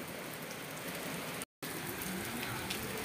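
Steady rain in the Kashmir valley makes a soft, even hiss that holds throughout and breaks off for a moment in the middle.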